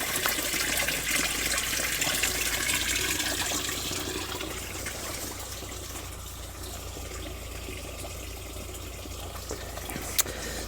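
Water gushes steadily through a little drain, carving small falls of its own outdoors, a continuous broadband rush that stays fairly loud and even throughout, easing slightly toward the end.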